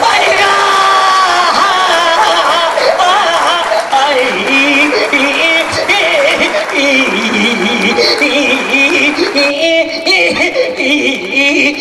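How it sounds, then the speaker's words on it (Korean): An audience claps steadily at an outdoor folk performance at a grape festival in Gyeongsan, a dense continuous applause mixed with music and crowd noise. "대한민국 댕겨봐도 또 우는데 박수 치는 데는 여기 밖에 경산 밖에 없네 그려"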